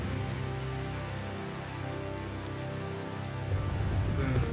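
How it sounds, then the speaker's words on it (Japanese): Steady rain falling in the Tales of Xillia video game, a constant even hiss of drops growing slightly heavier toward the end, with game music or ambience faintly underneath. "雨が降ってきたよ。"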